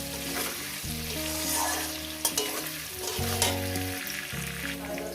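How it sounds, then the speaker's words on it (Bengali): Potatoes fry in a pan with a steady sizzle for a fish curry with spinach. Scraping stirs come every second or so and ring out clearly, with no talking. "তিন মিনিট ধরে আমি আলুটাকে সুন্দর করে ভেজে নেব"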